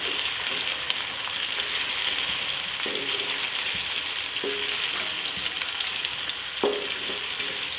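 Whole spices (cloves, star anise, black peppercorns, cinnamon pieces and mace) frying in hot oil for Hyderabadi potato and pea degi pulao: a steady, close sizzle broken by occasional stirring knocks, with no talking.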